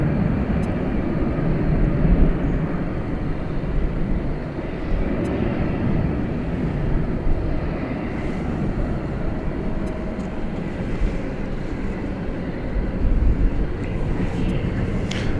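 A distant MD airliner rumbles at night at Dallas Fort Worth airport, a steady low roar with faint chirps and clicks over it, continuous throughout.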